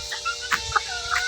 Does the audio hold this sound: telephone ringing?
no